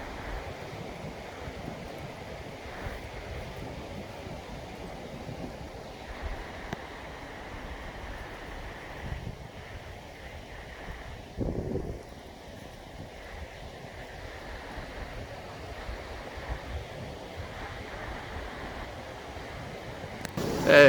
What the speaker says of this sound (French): Regardez la petite cascade derrière moi là.